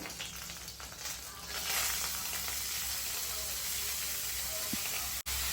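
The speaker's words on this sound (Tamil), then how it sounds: "எல்லாம் சேர்த்து நல்லா வதக்கிக்கோங்க" Chopped vegetables, carrot and green chilli for a veg momo filling sauté in a pan with a steady hissing sizzle that swells slightly, broken by a brief clack near the end.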